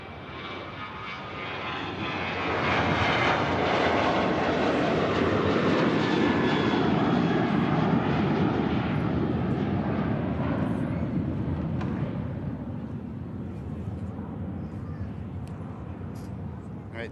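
A Ryanair airliner's engines roar at Manchester Airport, a broad steady rumble swelling to a peak and then slowly fading as the aircraft passes at a distance under an overcast sky.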